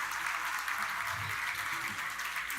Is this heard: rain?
no